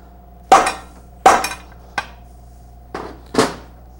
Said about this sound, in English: Now, I may have to tap it back off again because it's stubborn at the dowel pin.